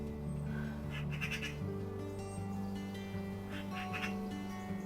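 Faint bird calls in a garden, a few short quacking or squawking bursts, heard over a steady low background hum.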